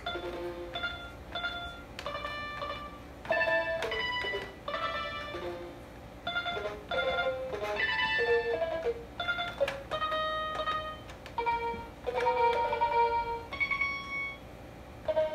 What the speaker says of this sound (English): Now T5, which is banjo.